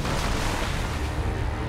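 A cannon fires in Resident Evil 4, a loud, dense, roaring blast that fills the whole short moment with heavy low rumble and no talking.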